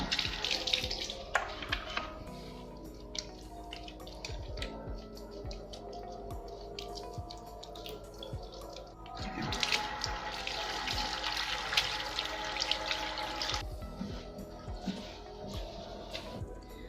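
Running tap water splashes steadily as hands are washed under a faucet, a continuous watery rush with scattered drips and handling sounds, louder in bursts near the middle, no talking.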